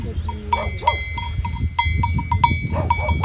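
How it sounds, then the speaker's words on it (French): Several goats bleat over one another in a barn on a farm in Saint-Vincent-en-Bresse, France, with a metallic bell clanking repeatedly and a busy farmyard hum underneath. "Donc voilà les biquettes."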